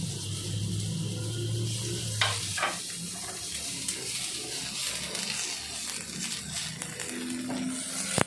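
Julienne-cut onions sautéing in a hot pan for homemade burgers, a steady loud sizzle with stirring scrapes throughout.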